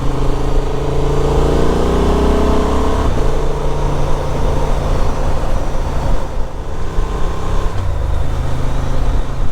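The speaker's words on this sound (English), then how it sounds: "You just tap it down, it blips itself into the gear below." A motorcycle engine drones steadily and loudly as the rider downshifts with a quick shifter that auto-blips the throttle, the pitch stepping down through the gears with brief revving blips.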